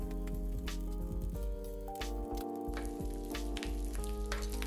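Hickory smoked bacon slices frying in a pan, a steady close sizzle with crackling pops running throughout, no voices.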